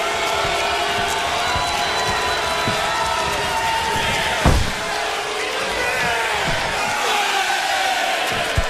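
A dense wrestling arena crowd at a TNA Impact event roars and cheers continuously, loud and washy, with scattered thuds and one heavy slam from the ring midway.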